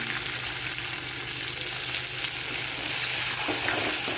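Greens for bhatka chutkani roasting in a pan, a steady dense sizzle and crackle running throughout, close and fairly loud with no talk.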